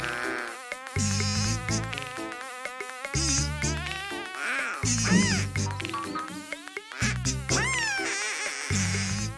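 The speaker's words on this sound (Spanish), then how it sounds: "¡Solo es una abeja que...!" A cartoon bee buzzes in a children's animated show, a wavering, pitch-sliding electronic drone that swoops and weaves in bursts, mixed with quacking duck calls and lively music.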